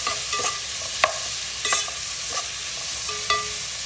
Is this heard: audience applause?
no